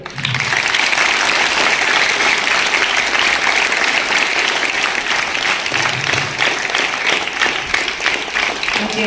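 A large audience of students at a meditation talk claps loudly and continuously, dense applause filling the whole stretch without pause.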